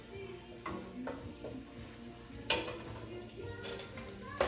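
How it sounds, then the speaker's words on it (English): Tomato sauce with tomato paste being stirred in a pot, soft scraping and sloshing over a low simmering sizzle, with a few sharper utensil knocks against the pot. "Just give that a stir to mix in the tomato paste."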